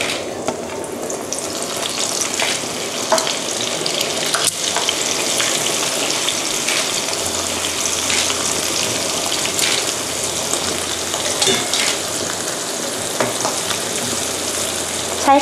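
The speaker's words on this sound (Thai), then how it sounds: "นี่ก็นำลงทอดเลยค่ะ" Shrimp wontons deep-frying in hot oil over medium heat give a steady, dense crackling sizzle that runs unbroken throughout with no talking.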